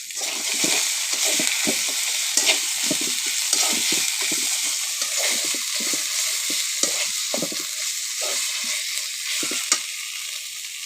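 Ginger, garlic and bay leaves frying in hot oil while being stirred, a steady loud sizzle broken by a regular series of scraping spoon strokes across the pan, no voices.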